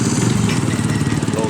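Motorcycle engines from a touring group arriving at a sub-district office in Aceh Besar, a loud, close, continuous drone with some faint voices mixed in.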